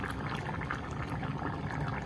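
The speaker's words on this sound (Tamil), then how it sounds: "நெல்லிக்காய் சைஸில் புளி கரைச்சி வச்சு நான் அதை விடுவோம்" Dissolved tamarind water is poured into a simmering radish and drumstick sambar, giving a steady, close, liquid splashing and bubbling wash that runs throughout without pause.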